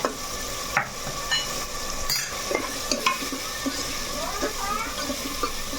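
Ginger garlic paste frying in a pot for chicken curry, a steady close sizzle with scattered stirring clatters and spoon knocks throughout.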